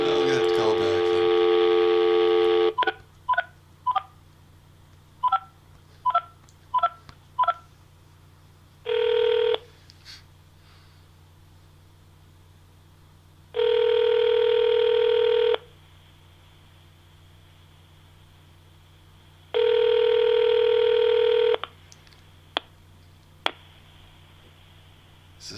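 A telephone call being placed again after a disconnection: a sustained dial tone, then a quick run of separate touch-tone beeps, followed by several long ringback tones with gaps between them.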